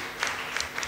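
Brief, loud applause from a church congregation praising God, a dense patter of hands with a few sharper claps rising above it.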